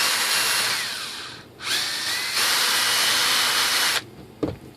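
Power drill whirring steadily while deburring the rough edges of a composite rudder for an ASH26 sailplane, with a brief pause and restart, then stopping near the end.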